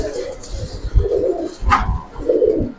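Giribaz pigeons coo in soft, low repeated pulses close by, with bursts of fluttering or movement and some background noise between calls.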